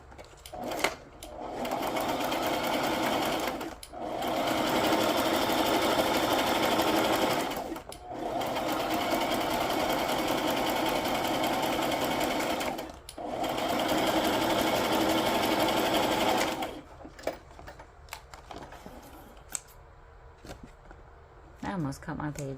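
A sewing machine stitches the top and bottom edges of a handmade project in three long, steady runs with short pauses between them, close and loud, before giving way to quieter handling noises.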